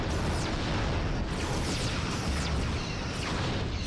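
Pulse weapon fire from a starship in the Star Trek Bridge Commander space battle game, a dense, loud roar of blasts and crashing bursts that fills the whole stretch without a break, with no voices.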